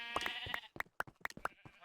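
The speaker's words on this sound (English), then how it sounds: "you can have free roaming sheep like this and get your wool" Sheep in the Minecraft video game bleat repeatedly in quick succession, several short nasal calls overlapping at close range with no talk over them.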